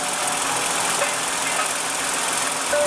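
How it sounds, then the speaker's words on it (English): A 2015 Toyota Sienna's 3.5 L V6 runs at a steady, even drone from inside the cabin, with a broad constant hum and no talking. "This is a very smooth and powerful V6 and a very responsive one too."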